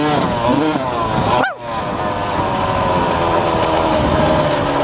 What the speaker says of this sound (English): I'm going to jump my dirt bike